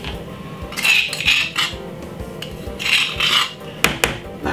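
A utensil scrapes homemade seasoning out of a container for a Jamaican oven-baked chicken marinade, making repeated rasping strokes with faint clinks of metal against the container, up close.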